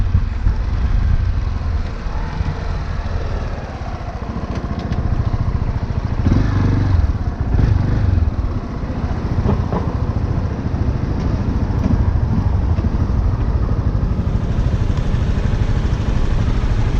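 A Honda Sahara 300 single-cylinder motorcycle engine runs steadily and loudly up close, a continuous rough, throbbing drone with slight shifts in intensity throughout and no talking.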